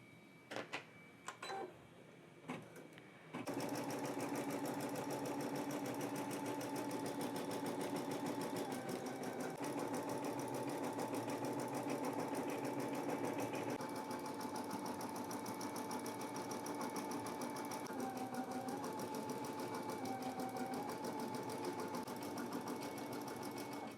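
A Brother embroidery machine stitching a design runs with a loud, steady, rapid mechanical hum and needle chatter, starting after a few brief clicks and continuing without a break.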